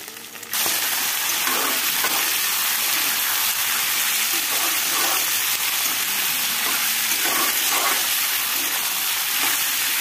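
Duck meat sizzles and crackles steadily in hot oil with onion, ginger and garlic while being stir-fried, a loud continuous frying hiss that starts abruptly and carries on with faint scraping of the spatula.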